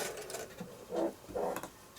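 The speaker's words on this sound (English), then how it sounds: "after you've stitched through one of the quarter circles, run through your scrap charger" A sewing machine stitches fabric quarter circles for a cheater Drunkard's Path quilt block, sounding as two short, quiet whirring bursts with brief pauses between them.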